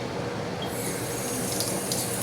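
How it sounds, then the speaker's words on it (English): Water runs steadily from a tap in a constant rushing hiss, close by and unbroken. "Just add water until you're at a quarter of a cup."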